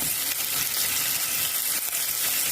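Sliced onions and tomatoes sauté for a Filipino kolokasi dish. They sizzle loudly and steadily in hot oil, close up, with faint stirring scrapes running through the frying.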